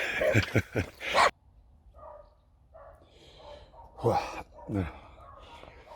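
A dog barks a few times at close range early on, followed by quieter yips and snorts during an early-morning sunny outdoor workout, with someone speaking over parts of it.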